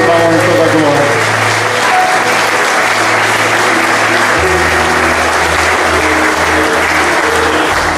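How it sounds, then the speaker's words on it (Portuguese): A church congregation applauds loudly and continuously for the full stretch, with a sustained organ or keyboard chord droning underneath the dense clapping. "Levanta as tuas duas mãos e aplaude a Ele."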